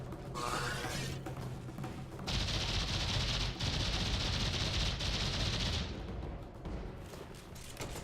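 Weapons fire in the video game Warframe, dense bursts of shotgun and automatic shots with crashing impacts over several seconds, loud and continuous before tapering off, no talk.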